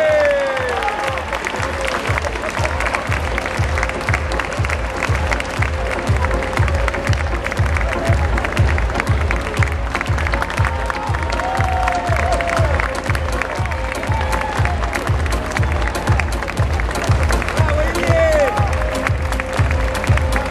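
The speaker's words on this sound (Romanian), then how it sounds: "Dragilor, să-l aplaudăm pe Ilie Roșu!" A crowd applauds steadily at an outdoor marathon for runner Ilie Roșu, loud dense clapping continuing throughout with a rhythmic low thumping beneath and voices mixed in.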